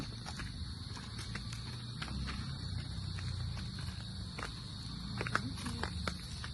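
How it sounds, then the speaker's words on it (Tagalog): Steady high cricket chirring on a mountain fills the background with faint scattered clicks and footsteps. "Sariwang hangin, puro kuliglig"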